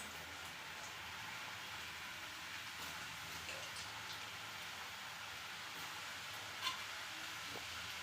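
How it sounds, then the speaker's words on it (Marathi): French fries frying in hot oil, heard as a continuous soft bubbling hiss with light crackle, steady and fairly faint throughout, with one small tap near the end. "आपलं तेल आता चांगलं गरम झालेलं आहे आता आपण थोडे थोडे करून याच्यामध्ये तेलामध्ये टाकून घेऊया"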